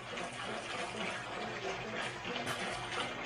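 Water gushes from a hose into the back of a bass boat, a continuous loud splashing and pouring stream close by, steady for the whole short span with no voices.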